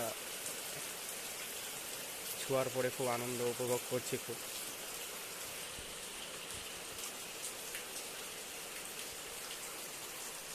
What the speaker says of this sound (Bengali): বৃষ্টিটা দারুণ লাগছে